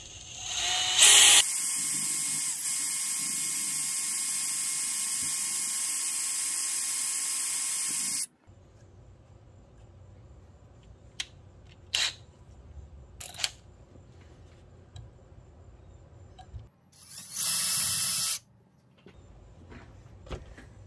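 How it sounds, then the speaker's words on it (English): A power drill bores a small 3/16-inch hole through a partition in a 4L80-E transmission, a steady loud whir for several seconds followed by quieter shop noise with brief bursts of drilling. "we're gonna drill a little hole through this partition here into this chamber"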